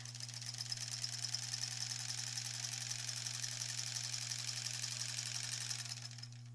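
Stitching along the back of a granny square quilt, a sewing machine runs in a steady, rapid stream of needle strokes over a constant low hum, then winds down and stops near the end.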